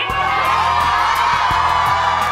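A loud university crowd at an SGT University event cheers and whoops continuously, a thick wall of shouting voices with sharper yells bursting out above it.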